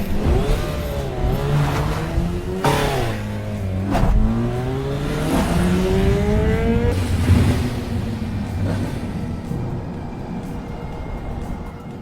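A motorcycle engine revs hard through several rising and falling sweeps, its pitch climbing with each throttle blip before settling into a lower idle, loud and close, with no talk.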